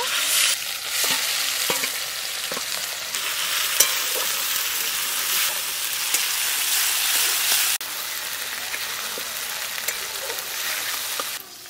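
Fish coated in spice paste and mustard oil being stirred in a frying pan, a steady dense sizzle like rain with occasional light scraping taps throughout.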